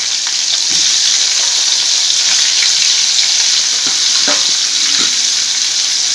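Potatoes fry in hot oil for a mutton liver fry, a loud continuous close sizzle with faint scraping stirs and light clinks throughout.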